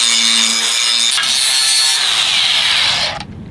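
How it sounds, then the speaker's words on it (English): An angle grinder works on metal while foresail fittings are modified on a sailboat, giving a loud, steady high whine with harsh grinding that holds for about three seconds before spinning down at the end. "Feels good to have a grinder back in my hand."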